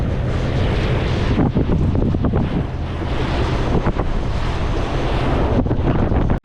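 A stormy sea churns with heavy waves along the shore while strong wind buffets the microphone in loud, constant gusts, cutting off abruptly at the end.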